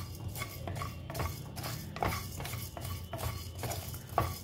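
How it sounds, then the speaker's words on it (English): Coriander and cumin seeds saute in a pan for bisi bele bath, heard as repeated close scraping strokes of a stirring utensil with a faint sizzle underneath and no speech. "So first I'm going to add the dhania and the cumin seeds, right? Saute for a few seconds"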